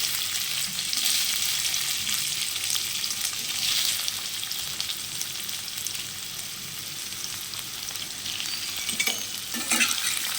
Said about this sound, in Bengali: তেল গরম হয়ে গেছে, এখন আস্তে আস্তে আলুটা ছেড়ে দেবো ভাজার জন্য।